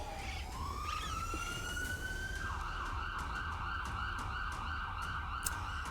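Air raid warning siren sounding in Jammu, a steady wailing tone that rises in pitch and then holds, loud and continuous over a rumbling outdoor background, with no voices.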